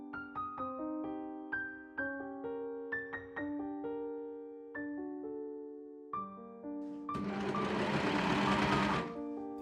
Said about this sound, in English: I machine sew the waist seam up.